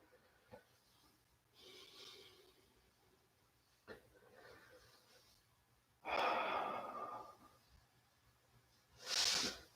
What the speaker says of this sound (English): And then just watch yourself breathe.